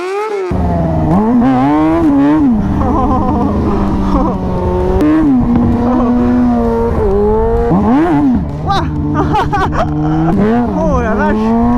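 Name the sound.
motorcycle drifting on a race circuit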